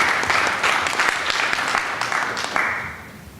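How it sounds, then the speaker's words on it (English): An audience at a blockchain event applauding to welcome panelists, a short burst of many hands clapping with a bright, close, slightly uneven texture that tapers off after about three seconds. "Please give them a warm round of applause"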